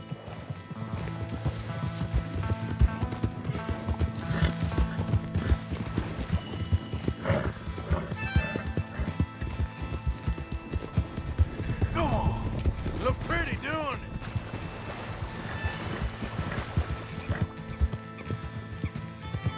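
Galloping horses in the video game Red Dead Redemption 2, a rapid continuous clatter of hooves with occasional whinnies, loud and busy throughout.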